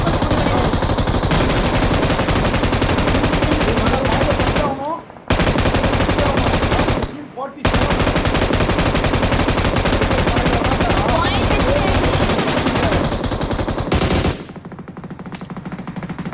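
Rapid gunfire from an M2 and a shotgun in the PUBG video game, loud and close, with long dense bursts of automatic fire broken by two brief pauses and fading at the end.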